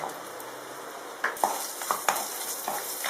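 Quartered small onions fry in a pan with a continuous soft sizzle, broken by a few sharp clinks and scrapes of a spoon stirring them.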